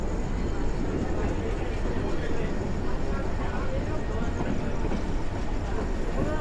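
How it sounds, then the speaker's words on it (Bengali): The Nasirabad Express, just departed Fazilpur station, rumbles steadily as it crosses from the loop line onto the main line, a dense continuous rolling noise heard from on board. "ট্রেন এখন লুপ লাইন থেকে ঢুকতেছে মেন লাইনে।"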